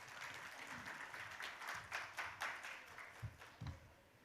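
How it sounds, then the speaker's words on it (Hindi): Applause from a ceremony audience for a guest at a New Year get-together, rather faint and distant, a steady patter of many hands continuing throughout with a few louder claps near the end. "मैं चाहूंगी कि जोरदार तालियां पवन अरोड़ा जी के लिए"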